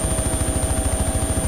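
A helicopter in the video game DayZ, its rotor chopping in a fast, steady rhythm with a constant whine above, heard alone and close.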